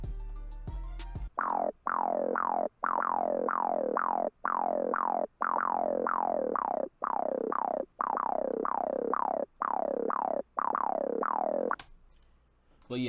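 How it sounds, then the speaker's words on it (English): A beef bass synth for a Detroit type beat plays a repeating pattern of punchy notes, each with a sliding, downward-bending pitch, in a steady bouncing rhythm with short gaps, close and clear. "here's the beef bass."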